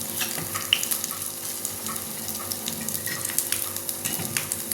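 Paniyaaram batter frying in a pan gives a steady, close, even sizzle that runs without a break throughout, with no talking.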